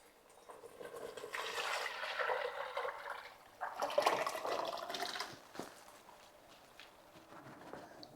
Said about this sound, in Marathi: मटकी शिजवलेलं पाणी आहे ना आणि मटकी ते आता आपल्याला ह्यामध्ये ओतायचे